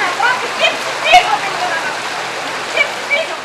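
Rainwater runoff pours off a road in Heraklion during a storm, producing a steady, loud broadband rush of falling water that continues throughout with no clear pauses.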